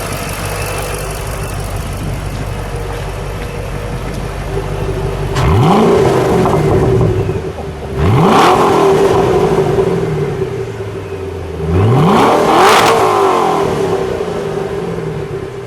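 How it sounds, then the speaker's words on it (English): A red 2006 Ford GT supercharged engine with a custom exhaust idles, then revs sharply three times, each rise followed by a whining spool-down; loud and close, with no talk. "Give me a little rev on the custom exhaust."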